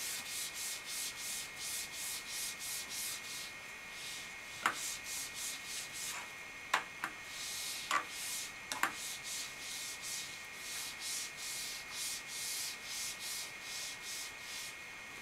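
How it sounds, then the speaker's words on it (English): Rhythmic back-and-forth rubbing of an eraser wiping writing off a board, steady strokes of roughly half a second each with a few sharp knocks, faint and alone. "I'm just going to rub a bunch of this out so I can continue solving this."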